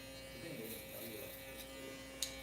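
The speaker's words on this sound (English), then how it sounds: "This has to be the fastest electric shaver I ever used." A Gamma Xceed electric hair clipper runs steadily while cutting a fade, giving a constant mid-level motor buzz with a faint click near the end.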